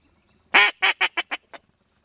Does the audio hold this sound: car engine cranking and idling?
no